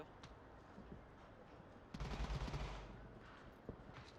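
Gunfire in the VR shooter game Onward during a competitive match, with a few sharp distant shots, a louder burst of rapid fire in the middle, and a last isolated shot near the end.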